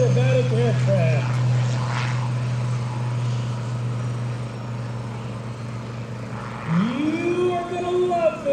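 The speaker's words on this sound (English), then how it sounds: "Here's Scott Francis with his MXS world-class aerobatic aircraft." An MXS world-class aerobatic propeller airplane on its takeoff roll at the 2024 Westmoreland County Airshow, its engine drone steady and loud, then rising in pitch near the end, while an announcer talks over it.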